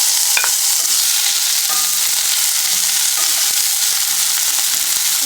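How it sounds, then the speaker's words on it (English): Onion and pepper sizzle loudly in very hot canola oil, a dense, even hiss close up, broken by a few light clicks of a stirring utensil against the pan, with no voices. "Now my oil is very hot at the moment, so I'm going to add in the onion"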